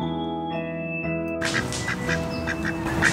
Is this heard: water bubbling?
no